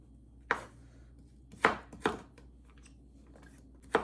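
A knife cuts carrots diagonally into long strips, making four sharp, close chops against a cutting board at uneven intervals, with quiet gaps between them.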